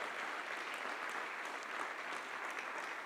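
Church congregation applauding during a home worship service, a steady wash of many hands clapping that stays level and unbroken throughout, with no voices over it.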